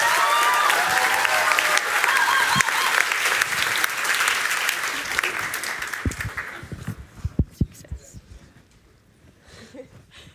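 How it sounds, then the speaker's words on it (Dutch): A student debate audience gives loud, dense applause that swells for several seconds, then thins into scattered individual claps and dies away into near silence. "En dan mogen jullie een heel hard applaus geven voor de twee eerste inleiders van de stellingen"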